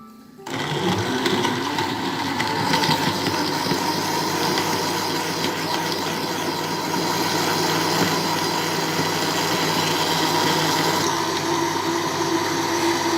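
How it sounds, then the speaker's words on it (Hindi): A mixer grinder blends banana milkshake with a steady, loud mechanical whir. It starts abruptly after a short quiet moment and then runs continuously without pause. "अब हम तकरीबन 5 मिनट के लिए इसको दोबारा से ग्राइंड करेंगे।"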